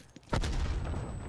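A single gunshot in Call of Duty Cold War, a sharp loud crack with a brief rumbling tail after a faint earlier pop.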